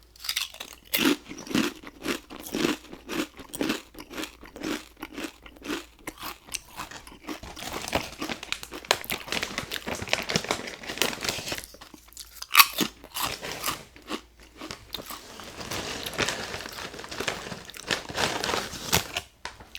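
Potato chips crunched and chewed right at the microphone, loud crisp bites and steady mastication repeating over about twenty seconds with bag crinkling, and no talking.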